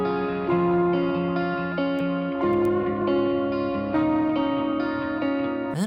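Lead electric guitar intro doubled into two layered parts over a full band mix, with chorus-like thickening and reverb; a continuous melodic line over chords, loud and steady with no voices.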